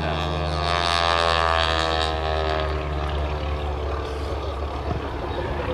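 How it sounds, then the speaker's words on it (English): A Grumman biplane drones loudly overhead at an airshow, its propeller engine a steady roar with a faintly shifting pitch as it passes. "It is also the first Grumman biplane to be used in airshows since the 1930s."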